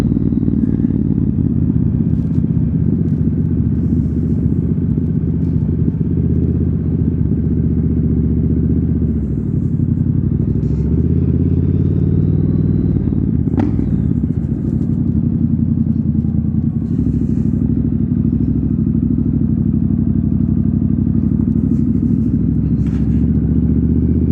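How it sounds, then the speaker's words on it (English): A Triumph Scrambler 900 motorcycle rides through Cheddar Gorge. The engine drones steadily and loudly throughout, with a brief rev about halfway through and no talk. "Give it a little bit of a rev through there"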